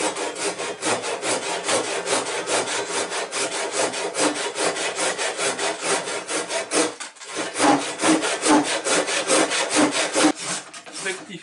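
Stanley hand saw cutting wood for a small toy boat, continuous rhythmic back-and-forth strokes, loud and close, with a brief pause midway before sawing resumes.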